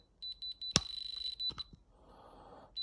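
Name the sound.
electronic diamond tester beeping on a gemstone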